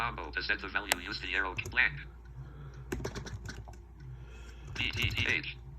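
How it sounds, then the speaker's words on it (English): Rapid keyboard clicks come in bursts alongside a synthetic speaking voice, with short pauses between the runs of typing. "I'm just typing on the regular keyboard."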